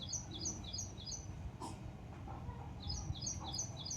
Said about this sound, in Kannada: ಒಂದು ಯಾವುದೋ ಪಕ್ಷಿ ಕುಂತಿದೆ ಪಕ್ಕದಲ್ಲಿ, ಹಾಗಾಗಿ ಸೌಂಡ್ ಮಾಡ್ತಾ ಇದೆ ಅದು